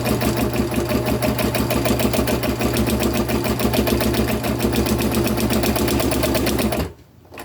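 A sewing machine fitted with a free-hand foot stitches continuously at a fast, even needle rhythm, loud and close, before stopping abruptly near the end.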